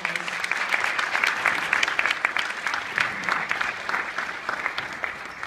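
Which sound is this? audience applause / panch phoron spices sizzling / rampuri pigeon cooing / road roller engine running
audience applause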